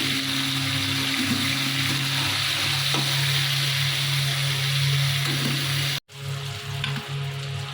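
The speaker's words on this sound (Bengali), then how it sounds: "আলুটা ভেজে নেব।" Potato pieces frying in oil left over from frying cauliflower, giving a constant close sizzle with some stirring, over a steady background fan hum, and a brief cut near the end.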